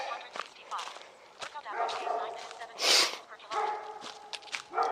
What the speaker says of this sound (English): so that might be what all this barking is about.